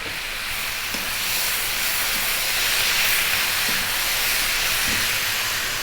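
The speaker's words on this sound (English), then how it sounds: "We're now going to drop in that can of tuna." Canned tuna and cabbage sizzling in a hot pan over above-medium heat, a steady, loud, broad hiss with faint periodic scraping or stirring knocks.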